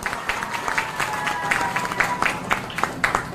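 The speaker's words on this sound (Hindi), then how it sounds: "उनको चाहूंगा जोरदार धमाकेदार ताली।" An audience of national promoters, founders and guests at a gathering bursts into applause, with dense, fast clapping that continues evenly for about three seconds.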